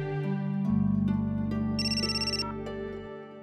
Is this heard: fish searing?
no